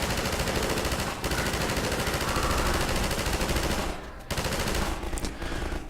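A mounted gun turret fires in Half-Life 2, a loud, continuous stream of automatic shots close up, with a brief break just before the burst resumes.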